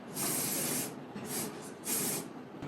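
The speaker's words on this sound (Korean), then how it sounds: "스프레이 뿌릴 때는 이마에 묻으면 안 되니까 한쪽으로 가리고 뿌려주세요" Hair spray is sprayed onto a man's front hair during wet-look styling, in three close, soft hissing bursts of about half a second each, with no talking.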